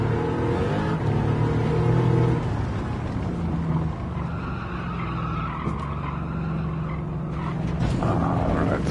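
A Bugatti Veyron on soft tires in Gran Turismo 7 roars at full throttle, tires squealing and skidding through corners, loud and continuous with shifting engine pitch.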